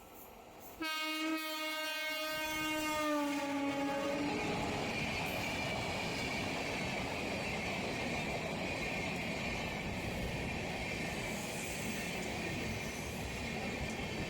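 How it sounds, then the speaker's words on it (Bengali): An express train passes through a rural station platform at Begampur near Kolkata. A loud horn blast sounds first, then the close, heavy rumble and clatter of the train carry on steadily to the end. "এখন 2 নম্বর প্ল্যাটফর্ম দিয়ে একটি এক্সপ্রেস ট্রেন পাস হচ্ছে।"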